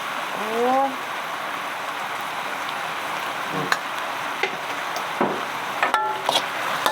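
Liver stir-fried in a pan for a Thai basil stir-fry with mushrooms, a steady close sizzle running throughout with a few sharp clicks and knocks of the utensil, while a voice is faintly heard.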